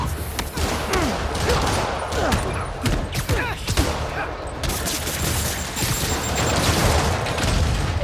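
Rockets and gunfire crackle through a Marvel's Spider-Man combat scene with dense, continuous explosive bursts and mechanical thuds, steady and loud throughout, with faint game voices underneath.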